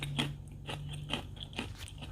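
Sugar-coated candied pecans bitten and chewed up close, a run of sharp crunchy bites and crackles at an irregular rhythm, clear and fairly soft with no talking.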